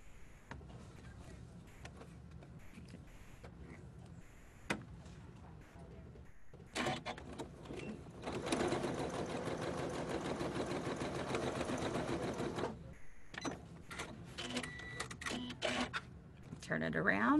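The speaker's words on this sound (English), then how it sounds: "I'm going to sew directly on those two lines." Sewing machine stitching in short bursts, then a longer steady run with rapid mechanical chatter; a few quiet clicks and brief talk in between.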